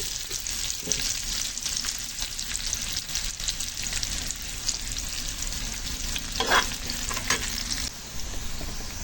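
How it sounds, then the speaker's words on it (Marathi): Cumin seeds dropped into hot oil in a pan, crackling and sizzling loudly and steadily up close with faint stirring scrapes throughout. "तेल टाकलेलं आहे, आता याच्यात टाकू थोडंसं जिरं"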